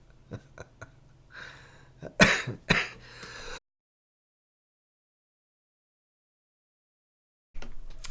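A few small throat sounds, then a sharp, close cough in two or three bursts, followed by a long silence before a brief noise at the end.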